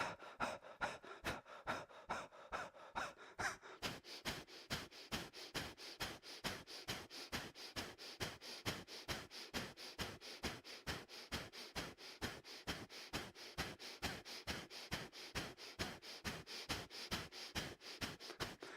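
Rapid, rhythmic breath-of-fire breathing exercise, a steady train of quick, forceful nasal exhalations about two or three per second, close and continuous with no talking.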